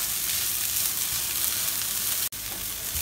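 Spinach thoran being stirred in a hot pan, a continuous close sizzle with light scraping, broken by one brief dropout near the end, no voices.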